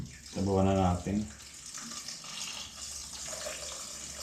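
Water pours briefly into a cooking pot to make broth, a short gushing splash lasting under a second, followed by faint background clatter and quiet room noise.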